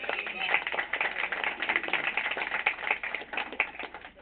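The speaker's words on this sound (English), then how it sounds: "That's the first applause they've ever heard." Scattered clapping from a small audience at a live corporate banding event, brisk uneven claps with a lively crowd bustle underneath, fairly close and moderately loud throughout.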